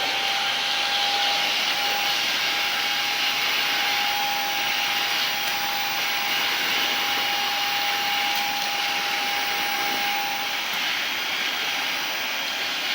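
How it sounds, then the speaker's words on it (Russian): A Samsung VS20T7532T1 cordless stick vacuum cleaner fitted with a crevice nozzle runs steadily up close, giving a loud, even, high-pitched whine with a constant tone and no talking. "Пылесосю с щелевой насадкой так же само."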